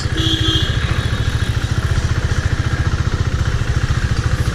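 A 2017 KTM Duke 390, new and still being run in, rides slowly through city streets with a steady, close low engine thrum and pulsing exhaust throughout, plus some wind and road noise.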